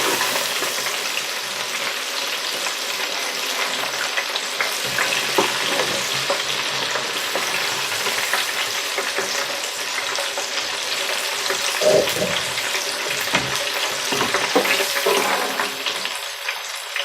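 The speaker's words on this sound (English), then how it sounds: "Now that's one way of frying corn on the cob" Corn on the cob deep frying in hot oil makes a dense, loud, unbroken sizzle and crackle with scattered sharper pops, alone with no talk.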